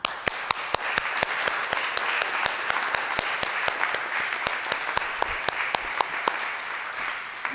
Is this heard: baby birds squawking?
no